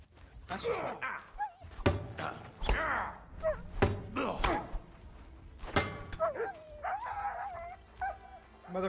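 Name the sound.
dog barking in Kingdom Come: Deliverance 2 video game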